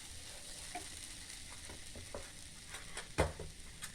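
Matar kachori pea filling roasting in a hot pan, a soft continuous sizzle broken by scraping stirs and one louder clunk of the spoon near the end, close and quiet with no voices.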